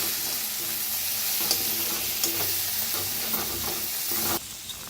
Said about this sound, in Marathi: आता चांगलं भाजून घेऊया